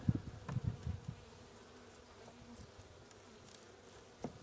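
Honeybees in a nuc beehive, struggling to keep warm, give off a low, soft buzzing hum throughout, with a few brief handling bumps near the start and a faint tap near the end.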